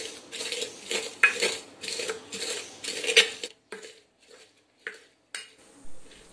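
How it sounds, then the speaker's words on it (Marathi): Green chilies are crushed with a glass against a pan, making a series of rhythmic clinking and scraping knocks, close and fairly loud, before they thin out into sparse taps. "त्या ग्लासने तुम्ही अशा पद्धतीने या मिरच्या पॅनवरच बारीक करायच्या आहेत."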